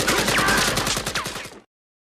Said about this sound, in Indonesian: tembakan terdengar di mana-mana.